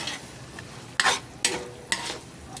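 Ground pork giniling sizzles in a frying pan while a spatula stirs it with three distinct scraping strokes over a steady close frying hiss.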